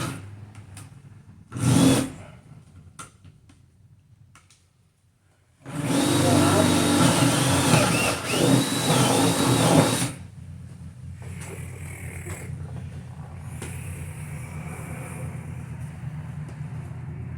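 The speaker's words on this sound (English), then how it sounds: "Okay, so I'll drill a hole up here." A power drill whirs loudly for about four seconds while drilling a hole in a wall, after a short burst and quiet clicks, followed by a lower steady mechanical hum.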